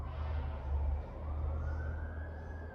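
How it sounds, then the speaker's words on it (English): A fire truck siren wails as it passes, a rising and falling tone over the low rumble of traffic, moderately distant and fading slightly toward the end. "That sounds like a fire truck there."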